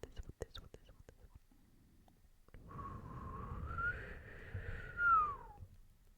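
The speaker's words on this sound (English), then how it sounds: "I did not mean to whistle." A few soft clicks, then a faint breathy whistle rising and sliding in pitch for a couple of seconds, quiet and close.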